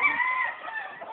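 A rooster crows in one sustained, close call, with chickens clucking briefly underneath it.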